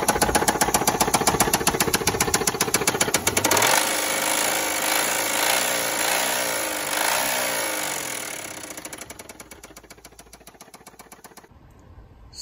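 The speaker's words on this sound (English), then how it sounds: "figure out what might be making that knocking sound" A damaged Mitsubishi Montero engine running with a loud, rapid metallic knock. The hammering is steady at first, then turns into a rougher, grinding clatter before slowing and cutting out near the end, close up and with no voices.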